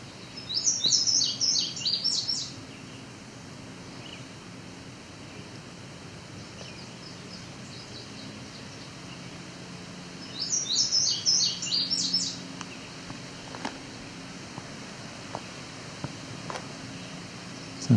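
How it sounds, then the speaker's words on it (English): A red-eyed vireo sings short, high phrases near Otter Lake, two bursts of quick warbled notes separated by a long pause, over a soft steady background hiss of outdoor ambience. "So our vireo is non-stop as usual."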